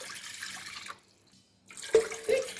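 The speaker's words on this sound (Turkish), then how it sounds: "hamurumu yoğurmak üzere suyumu tabağıma alıyorum" Warm water is poured into a bowl to make pide dough. The close pouring stops briefly, then resumes with a few splashes and light clinks, and no one speaks.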